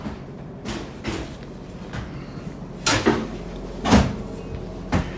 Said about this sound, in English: We got fuel cabinets, drawers. These are all drawers.